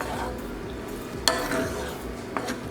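Evaporated milk being stirred into a steak marsala sauce in a hot pan, a steady low sizzle with soft scraping and a couple of sharp utensil clinks against the pan, close by and with no talking.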